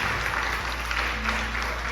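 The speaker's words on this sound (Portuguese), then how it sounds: "aplauda o Senhor por isso." Congregation applauding in a church service, a steady dense wash of clapping held evenly at moderate loudness for the whole stretch, with a faint low hum underneath.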